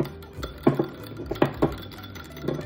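A utensil stirring pepper into garlic aioli in a bowl, producing several soft clinks and scrapes in an uneven rhythm, close up and moderately quiet, with no speech.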